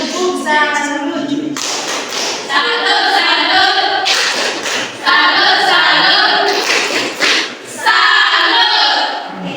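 Rhythmic group clapping salute in a classroom or meeting discussion session, given in unison to the second group, with bursts of patterned claps mixed with voices and shuffling nearby.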